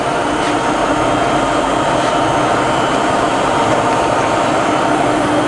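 A Bridgeport milling machine head runs at about 800 rpm with the quill feed engaged, giving a steady, loud mechanical whir and hum that stays continuous and close throughout, with no talking.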